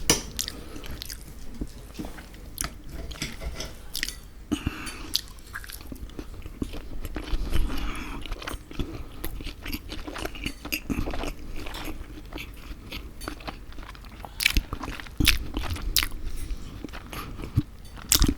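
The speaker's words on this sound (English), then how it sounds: "let's have it with some bacon, hang on" Close-up crunchy chewing of bacon, with repeated crisp bites and wet mastication continuing steadily for about eighteen seconds, with no talking.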